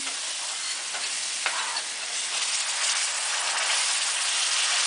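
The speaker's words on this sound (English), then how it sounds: "you gotta stir it" Mushroom gravy for steaks being stirred in a hot pan, a continuous close sizzle with soft scraping stirs, with no talk.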